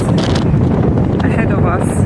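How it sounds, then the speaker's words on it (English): Strong wind buffets the microphone on a ferry crossing from Wellington to the South Island, a constant loud roar that runs the whole time with a little faint background noise. "It's very windy here."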